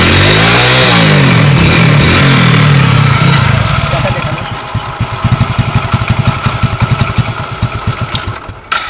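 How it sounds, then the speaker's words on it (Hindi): A motorcycle on its double stand with the key on and gears engaged cranks over and catches, a loud churning start that settles into a steady, close, pulsing idle. "बिना सेल्फ और बिना किक से अपने बाइक को चालू कर सकते हैं"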